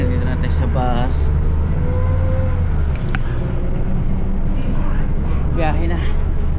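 A steady low engine rumble and road noise fill the cabin of a moving bus in New Zealand, continuous and close, as someone talks over it.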